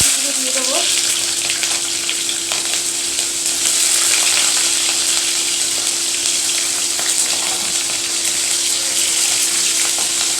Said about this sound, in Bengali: তেলটা আমার গরম হয়ে গেছে, এবার কালো জিরা দেবো।